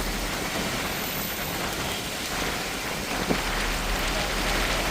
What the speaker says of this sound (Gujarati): વરસાદ ચાલુ છે જુનાગઢમાં